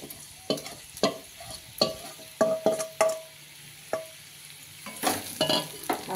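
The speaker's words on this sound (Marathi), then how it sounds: "म्हणजे हे मसाला जो आहे ना आपला तो सगळा असा छान परतून निघतो तेलामध्ये." Masala is stirred into softened okra frying in oil, with repeated sharp scraping stirs over a soft sizzle, close and irregular with no talking.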